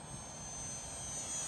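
An FMS Mini Mustang model airplane flies past, its electric motor giving a steady, fairly faint whine with a thin high tone over soft wind rumble, holding level and swelling slightly toward the end.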